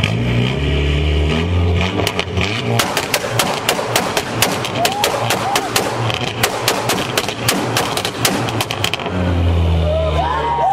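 A Peugeot Super Pug car revs loudly with a deep, roaring engine, punctuated by a rapid series of sharp cracking pops like backfires from the exhaust, then settling back to a rumbling idle.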